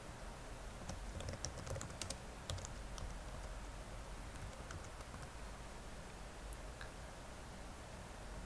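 Soft computer keyboard typing, a few faint scattered clicks early on over steady background hiss, trailing off into near-silence with no speech.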